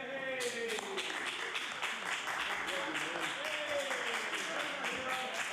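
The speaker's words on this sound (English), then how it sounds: "To that thunderous applause" Members of a House of Assembly legislative chamber applaud during proceedings. The clapping is dense and continuous but fairly faint, with murmuring voices mixed underneath.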